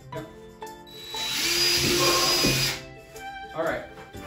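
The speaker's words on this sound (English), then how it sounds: "You're taking your quarter inch drill bit, and in the corner, and closer to the side, we're just going to drill a hole for this tubing to go through." A power drill with a quarter-inch bit bores a hole near the corner of a plastic bucket, one sustained whining burst of about two seconds between quieter handling sounds and brief talk.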